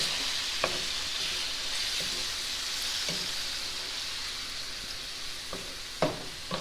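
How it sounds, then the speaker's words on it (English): Beef browns in a hot pan for Chinese beef and peppers with a steady, close crackling sizzle, broken by a few sharp clicks of a utensil stirring against the pan. "we're going to brown the meat for a little bit before we add in the vegetables"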